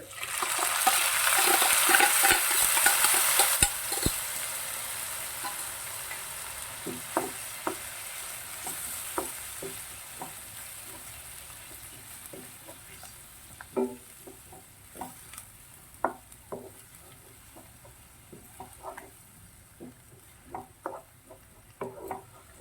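Crushed coconut spice paste for Kerala-style green gram thoran hits a hot pan with a loud initial sizzle, then quieter frying with scattered clicks and stirring scrapes over the following seconds.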